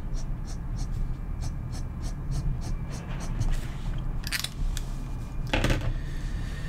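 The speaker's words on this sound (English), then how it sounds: "So this is a Twisby broad nib, and it puts down a very comparable line." Narwhal demonstrator fountain pen fitted with a TWSBI broad nib writing on paper, giving soft repeated scratchy strokes in a steady rhythm close up, with a couple of brighter scraping swipes toward the end over faint background hum.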